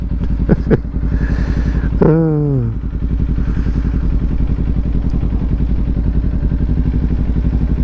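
A 2018 Kawasaki Ninja 400 idles at a traffic light with a steady, close engine rumble that runs the whole way through, briefly topped by a short rising and falling tone early on.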